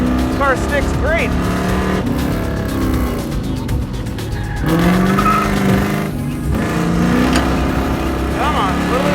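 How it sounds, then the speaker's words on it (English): A Firebird race car launches on a track with wheel hop and brief tire squeal over a loud, steady engine roar, while someone talks over it. "Come on, a little bit of wheel hop."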